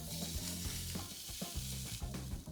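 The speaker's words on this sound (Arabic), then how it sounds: "وهسه راح نخلي اللحم" Steak searing in a hot pan with olive oil, a steady close sizzle and crackle lasting a few seconds, with a faint hum in the background.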